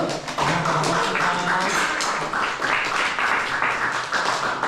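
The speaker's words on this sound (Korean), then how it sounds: "광주 수창초등학교 이호준 선생님을 큰 박수로 맞아주시면 감사하겠습니다" An audience at a school science lecture breaks into warm applause for an elementary school teacher, with dense, sustained clapping from many hands and no talk over it.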